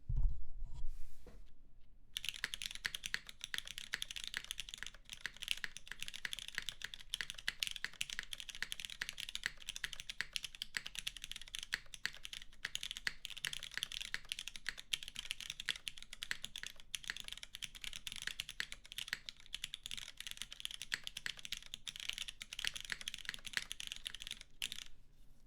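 Steady, rapid typing on a mechanical top-mounted PKL keyboard with MX2A Black switches, an aluminum top and GMK keycaps, clean clacky keystrokes continuing throughout with no talking.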